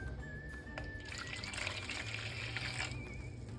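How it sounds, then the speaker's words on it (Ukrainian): Warm water, no hotter than 30 degrees, poured into a mixing bowl for rye garlic pampushky dough, a steady close trickle and splash running the whole time with no talking. "в миску виливаємо 150 мл від загальної кількості води"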